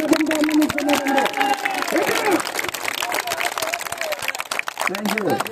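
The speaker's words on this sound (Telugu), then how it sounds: "గట్టిగా చప్పట్లతో ఆనందిస్తున్నారండి" An audience at a contract workers' federation executive meeting in Vizianagaram, Andhra Pradesh, claps loudly and continuously in dense rapid patter, while people speak over the noise.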